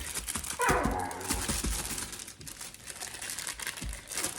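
A puppy whimpers and gives a few short, high barks amid crinkling and rustling noise close by, with no one talking.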